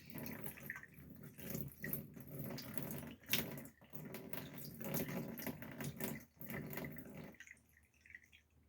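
Water poured into an RV shower drain makes a steady splashing, gurgling wash that runs for several seconds with brief dips, then tapers off into quiet near the end.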